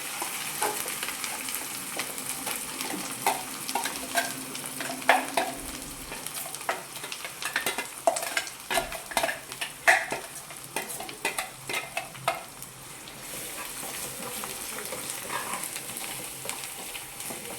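Ground paste being stirred into paneer masala in a frying pan, a continuous soft sizzle under repeated scraping and stirring strokes of a spoon against the pan, with no talking.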